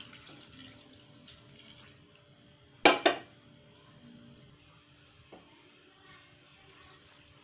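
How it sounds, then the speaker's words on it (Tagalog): Water is poured from a cup into a cooking pot for champorado, heard as a short, close splash in an otherwise quiet kitchen. "ilalagay na po natin yung 4 cups of water."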